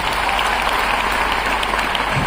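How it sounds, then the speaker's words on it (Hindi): Audience at an MI Lifestyle business program in Nagpur gives the management a round of applause, a loud, steady, dense patter of many hands clapping together without pause. "जोरदार ताली इस मैनेजमेंट को"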